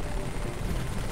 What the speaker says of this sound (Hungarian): De ennek a helikopternek milyen jó szeme van.